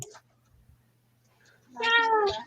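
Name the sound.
cat meowing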